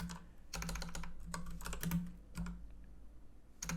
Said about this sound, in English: I'm just typing in random names that start with a D now.